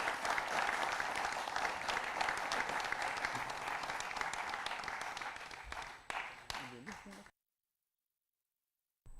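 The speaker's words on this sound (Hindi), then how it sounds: "आप उनका इस्तकबाल करें तालियों की गूंज में।" Audience applause welcoming a performer onstage at a DD Urdu Independence Day program, a steady dense clapping that runs about seven seconds, then thins out and stops into silence.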